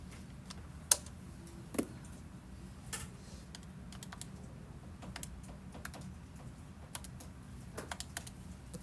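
Quiet, irregular key taps on a calculator as 14C6 is entered, a scattering of light clicks at uneven intervals over a low steady room hum, with no talking.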